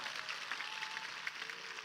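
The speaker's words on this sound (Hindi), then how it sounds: "वो भाई चौधरी नाम राम किशन जाट के लिए भी जोरदार तालियां" Crowd applause at a Bishnoi community gathering, clapping for farmer Ram Kishan Jat; dense, steady clapping from many hands, fairly distant, with no one speaking.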